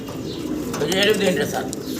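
Caged running pigeons at a large Bangladeshi pigeon farm give soft, close cooing over a low murmur of voices.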